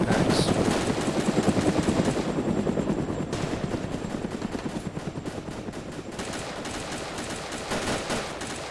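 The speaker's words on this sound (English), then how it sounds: "There really is a lot of shooting going on and I can't localize it" Gunfire in the BreakingPoint game, dense rapid bursts of shots from several directions mixed with a helicopter-like rotor thrum, loud and continuous throughout.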